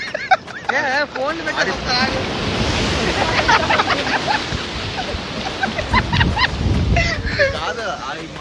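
Ocean waves wash onto a beach, a steady broad surf roar running throughout with wind noise on the microphone, while people talk and laugh over it.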